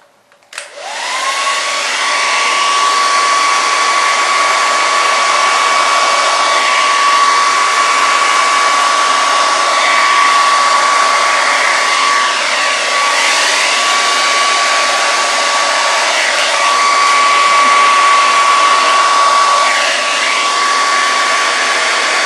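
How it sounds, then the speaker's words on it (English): A blow dryer blasts steadily over a Dutch paint pour on a large tile, a loud continuous whoosh with a thin high whine, starting abruptly and holding for about twenty seconds with slight swells as it moves. "then just blow the heck out of the whole thing with your blow dryer"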